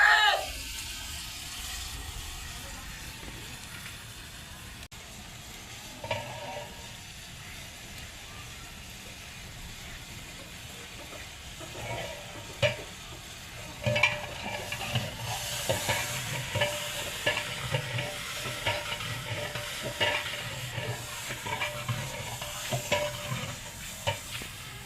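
Onions and spices fry in a large deg cooking pot in a village setting, a steady background sizzle broken by occasional stirring scrapes and clanks that grow busier in the second half.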